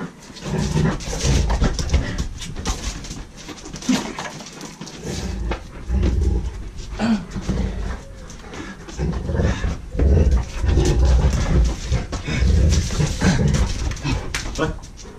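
A dog whimpers and pants close by, with short yips and snuffling in between, and a person's voice in the background.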